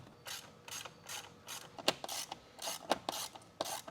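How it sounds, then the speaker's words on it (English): Ratchet loosening 7mm copper-looking bolts on a Jeep Wrangler JK front speaker box, giving quiet, regular bursts of clicking about twice a second, close by and alone. "Move over to a ratchet. We're going to get these 7mm bolts."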